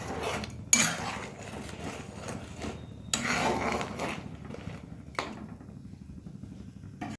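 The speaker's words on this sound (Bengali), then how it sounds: "এবার ভালোভাবে নাড়িয়ে মিশিয়ে দেব।" A spoon clinks and scrapes in a pan while crab brain is stirred into a crab bhuna, with a few sharp metallic knocks and softer scraping in between, quiet and close, with no talk.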